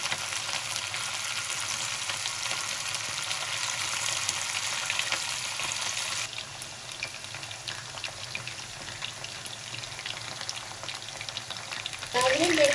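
Marinated chicken boti pieces fry in oil over a low flame with a loud, steady hiss. The hiss drops to a quieter, crackling sizzle partway through, and a brief clatter comes near the end.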